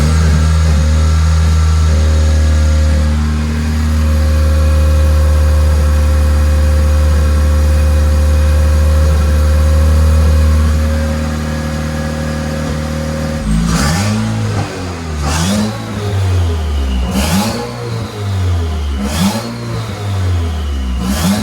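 Turbocharged Honda K24 engine swapped into a Porsche 911 idles steadily, then revs repeatedly in rising and falling bursts with turbo whine, loud and close, no talking.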